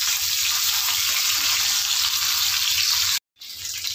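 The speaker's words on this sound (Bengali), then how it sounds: "পরের মাছগুলো ঠিক একইভাবে ভেজে নেব।" Small live fish (chara pona) sizzle as they fry in oil in a pan, a loud, dense hiss running steadily before cutting off briefly and resuming.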